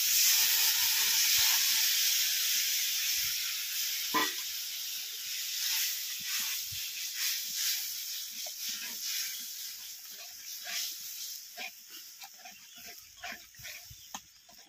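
Mustard seed, chili and turmeric fry in hot oil in a home kitchen, a loud hissing sizzle that slowly dies down into scattered crackles and pops.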